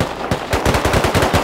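Rapid automatic gunfire bursts out in a survival shooter game, a quick close run of about ten sharp shots following a couple of isolated cracks.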